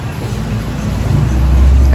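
Steady low roar of avenue traffic beside a roadside restaurant in Maragogi, Brazil, growing louder as a heavy vehicle passes close by.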